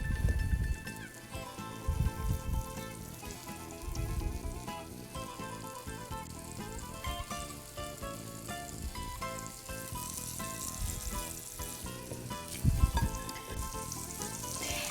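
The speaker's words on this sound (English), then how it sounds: "Now you hear that sizzle" Meatballs frying in a pan give off a soft continuous sizzle with faint crackles and a few louder pops, heard close and alone without talk.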